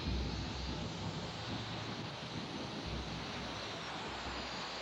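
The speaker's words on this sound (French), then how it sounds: "les avions reviennent sur les Clémenceau" Super-Étendard jet aircraft returning to the Clemenceau aircraft carrier, a steady loud roar with deep rumbling lows, continuous and unbroken throughout.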